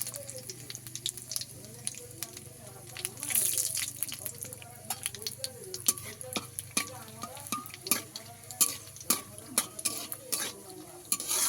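Dry red chillies, bay leaves and black cumin sizzle and crackle in hot oil in a pan, with steady frying hiss under repeated clinks and scrapes of a stirring utensil against the pot.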